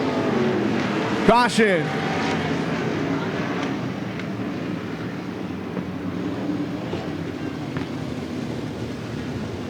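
Sprint cars of the Interstate Sprint Car Series race around Willamette Speedway, a steady broadband engine roar filling the scene while an announcer talks over it.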